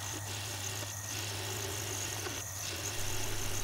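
A lathe turns down a rod of 4140 steel, giving a steady low mechanical hum with faint, regular rhythmic pulses. The sound is continuous and moderately quiet, with no talk.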